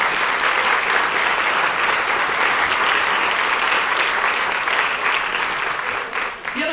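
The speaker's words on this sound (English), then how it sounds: "Please give a round of applause for them" Audience applause for two musicians at a Morgan Hill community celebration, a dense, loud wash of many hands clapping continuously throughout, thinning slightly toward the end.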